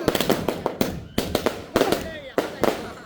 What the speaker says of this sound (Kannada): ಪಟಾಕಿ ಪಟಾಕಿ ಹೊಡಿತಾರೆ ಎಲ್ಲ ಜನಗಳು